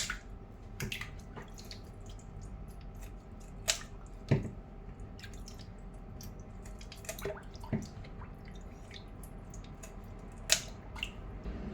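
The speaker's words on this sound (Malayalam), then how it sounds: "കത്രിക വെച്ച് തന്നെ കട്ട് ചെയ്തെടുത്താൽ മതി" Scissors snip through sardines: scattered sharp clicks and squelches at an irregular pace, close up against a quiet background with occasional drips.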